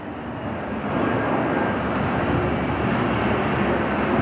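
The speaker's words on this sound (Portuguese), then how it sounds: "Agora vamos ter um barulhinho de avião." An airplane passes overhead outdoors under a clear sky, a loud, steady broadband engine roar that holds constant throughout.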